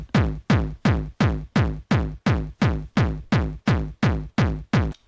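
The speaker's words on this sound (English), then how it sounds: "So that's a basic 4-bar kick drum loop." A basic four-bar kick drum loop for happy hardcore music: fourteen evenly spaced, punchy bass thumps at a fast steady tempo, each with a deep booming decay, played alone.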